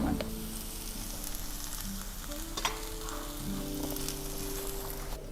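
Garlic, onion and curry leaves fry in a pan with a continuous close sizzle and crackle, plus a few sharp stirring clicks along the way.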